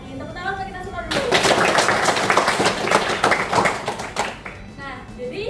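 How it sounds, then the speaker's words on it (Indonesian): A classroom of students bursts into lively group clapping that starts abruptly, holds dense and energetic for about three seconds, then tapers off, with a teacher's and children's voices speaking before and after. "Tepuk tangan untuk kita semua dulu"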